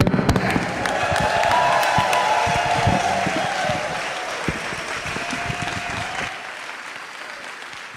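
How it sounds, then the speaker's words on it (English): An audience at a foundation's grant-winner celebration claps, starting as full, loud applause with scattered sharp individual claps, then gradually thinning and fading toward quiet near the end. "I feel bad about stopping that applause."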